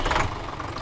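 A tractor engine idles in Farming Simulator 17, a steady low rumble heard close and alone for a brief moment.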